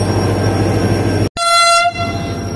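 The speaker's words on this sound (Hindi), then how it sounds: "तो विसल दे दिया है हमारी ट्रेन ने" The 48 Down Rehman Baba Express, hauled by locomotive HM 8822, sounds one short, loud horn blast over a steady low rumble at a station, without voices.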